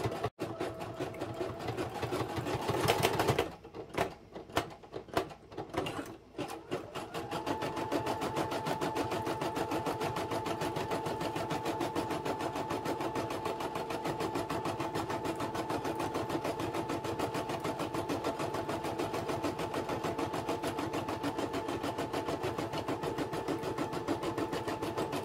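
A Brother embroidery machine stitches an appliqué, opening with a few brief stop-start bursts, then settling into a steady, close mechanical whir that runs unbroken to the end with no voices.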